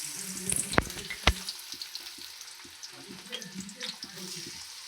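Onion, green chillies and capsicum frying in a pan: a faint, steady sizzle with a couple of sharp clinks early on and light stirring scrapes, close but quiet.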